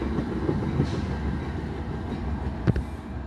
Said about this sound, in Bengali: এই যে ট্রেনটি প্রসপেক্ট হাইটস রেলওয়ে স্টেশনে এসে